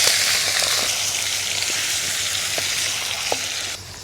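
Chicken pieces sizzling loudly in rendered dumba tail fat in a kadai, a dense steady hiss of frying with occasional faint scrapes of stirring, close up, easing off slightly at the end.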